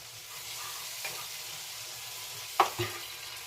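Brinjal (eggplant) curry frying in oil gives a steady close sizzle while being stirred, with a couple of sharp utensil scrapes against the pan near the end.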